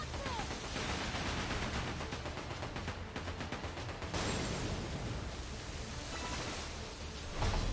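Ship cannons fire in the pirate video game Like a Dragon: Pirate Yakuza, a dense, loud barrage of booming shots over a continuous rumbling battle din, with a heavier blast near the end.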